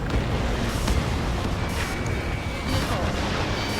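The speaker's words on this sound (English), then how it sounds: "Projectile exploded in the distance." In the Ace Combat 7 flight game, a missile projectile explodes in the distance. It comes as a dense, rumbling roar of distant blasts over constant jet noise, with no clear single boom.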